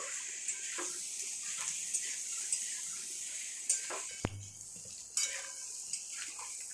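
A spatula stirs potato, pointed gourd and prawn curry as it fries in spices in a pan. A low, steady sizzle runs underneath, broken by occasional scrapes and metallic knocks, close up and fairly quiet.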